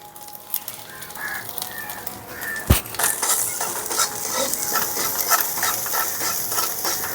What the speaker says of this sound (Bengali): মশলা থেকে কাঁচা গন্ধ যাওয়ার অবধি মশলাটাকে একটু ভেজে নেব